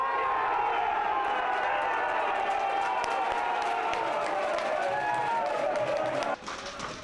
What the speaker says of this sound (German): lässt die Borussia-Fans jubeln